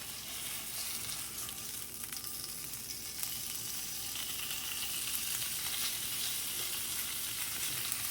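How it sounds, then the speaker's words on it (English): Bacon sizzling in a frying pan on a stove, a steady close crackle and hiss with small pops scattered through it, continuous and even with no voices. "Let that sizzle for a minute or two"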